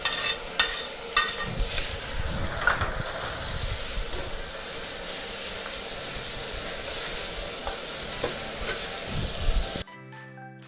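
Prawns fry in a hot wok for Hokkien char, a loud continuous sizzle and hiss with scattered clinks and scrapes of stirring, close up, ending abruptly.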